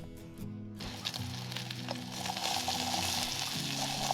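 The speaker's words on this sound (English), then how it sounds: "got just a little bit of salami frying up here" Salami sizzles in a pan on a camp stove in the Superstition Wilderness. After a brief quiet moment, a steady crackling fry sets in and builds slightly, with a low humming tone underneath and no speech.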